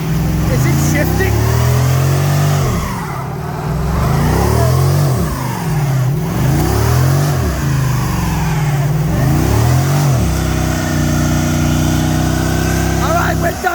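A 2012 Chrysler 300 SRT8 with the 6.4 HEMI V8 revs hard during a wet burnout, loud and close, its pitch surging and dropping in repeated swells, with voices talking over parts of it.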